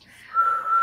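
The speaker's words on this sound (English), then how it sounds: "as you pull out the human bone whistle" A human bone whistle, played as a sound effect during a Cthulhu tabletop horror game, gives one short, thin, rising whistle that swells and holds a steady pitch alone.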